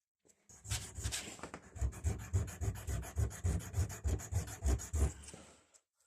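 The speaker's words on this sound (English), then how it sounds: "just rub it on a bit of sandpaper or whatever" A metal washer from a Stihl HLA 56 hedge trimmer is rubbed back and forth on sandpaper to flatten it, a close, steady rhythmic scraping of about a dozen strokes with no talking.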